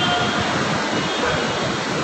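An LRT train in Manila rumbles steadily as it runs past a station platform, a loud continuous roar of wheels and motors filling the whole stretch.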